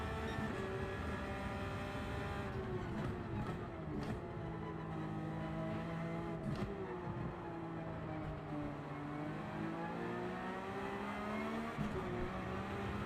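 Race car in a racing video game, engine droning steadily with rising and falling revs as it slides around, faint tire noise and other cars passing at moderate volume.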